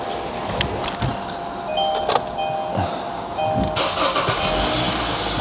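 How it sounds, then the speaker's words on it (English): A Kia Sportage with 59,000 miles cranks and starts after an oil change, with a chime and clicks before the engine catches and settles into a steady nearby idle. "start the car, so we can let the oil go through the engine"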